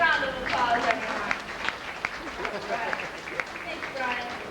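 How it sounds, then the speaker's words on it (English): Audience applause at a live show rises after a performer comes through a staged storm, with scattered claps and crowd noise carrying under an announcer's voice. "How about a big round of applause,"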